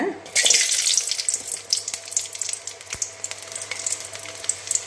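White garlic dropped into a hot pan where urad dal and chana dal have just finished roasting for a cluster bean chutney, giving a loud, close, steady hiss and sizzle with faint stirring scrapes.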